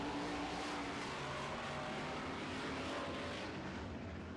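Modified race cars roar around an oval track in a heat race, a dense, steady wash of engine noise from several cars heard at a distance.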